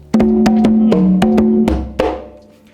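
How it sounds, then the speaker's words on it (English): Congas play a short rhythmic pattern of pitched, ringing strokes with sharp slaps, close and loud, ending on a decaying hit. "the congas"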